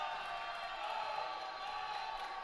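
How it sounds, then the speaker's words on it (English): Steady, fairly faint crowd murmur and scattered cheering from basketball fans at a Thursday-night high school boys game, McFarland versus East Troy, a continuous hum of voices with no distinct peaks. "Fans trying to get into it a little bit here, making a little noise."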